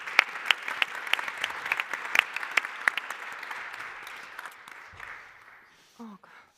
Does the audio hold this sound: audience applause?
yes